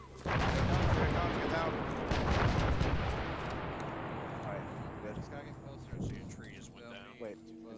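Heavy gunfire and booming shots in Arma 3 during a Vietnam-style ground firefight, a dense roar that fades gradually with later scattered reports; voices talk over it toward the end.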